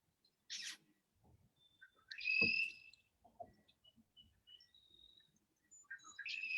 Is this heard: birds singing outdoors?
yes